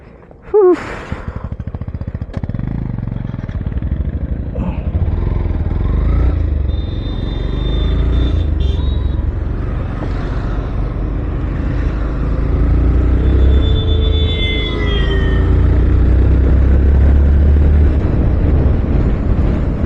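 A motorcycle engine kicks into life and rumbles on steadily as it rides off, with a low continuous drone and faint chirps above.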